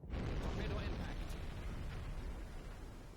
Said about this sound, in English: Torpedo impact. She's gone.